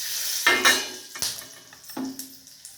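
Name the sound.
whole garam masala and black pepper sizzling in oil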